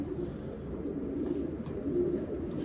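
Soft low cooing from a racing pigeon hums continuously at close range, a gentle murmuring drone without talk.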